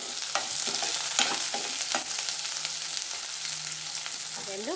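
Crushed garlic, onion, a dried red chili and curry leaves fry in hot oil for brinjal tomato dal, a steady close sizzle broken by repeated scraping stirs of a spoon against the pan.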